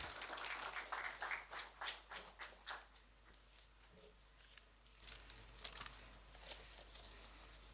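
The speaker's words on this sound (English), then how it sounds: "let's give him a big round of applause as he joins us up." Audience applause at the Future Minds 2025 media briefing and sponsor launch ceremony as the chairman comes to the lectern, dense clapping that fades over a few seconds into softer, scattered claps and room murmur.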